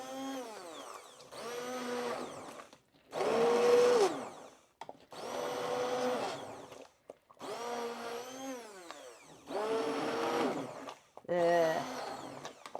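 A blender purées a leek, brie, lemon and potato chowder in six or seven loud bursts of a few seconds each, its motor whining and churning, with short pauses between pulses.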